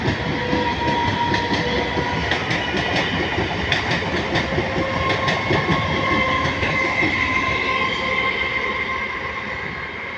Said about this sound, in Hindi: बहुत ज़्यादा स्पीड है लोकल ट्रेन कोलकाता का मशहूर।